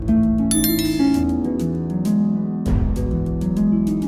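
A bright bell chime rings out over a steady musical backing, with a few high metallic dings near the start and another accent later.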